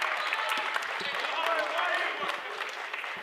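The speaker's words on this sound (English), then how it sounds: "Crowd appreciating the hustle by Charlie Mixes." A crowd applauds a hustle play at a high school boys' varsity basketball game, a sustained wash of clapping heard beneath an announcer's ongoing commentary.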